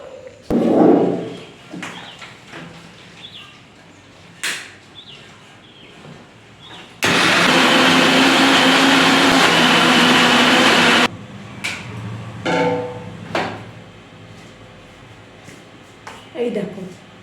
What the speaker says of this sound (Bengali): এটাকে আমি ব্লেন্ড করব, কোনো জল টল লাগবে না, এমনিই ব্লেন্ড করে নেবো